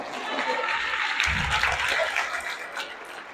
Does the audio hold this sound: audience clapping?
yes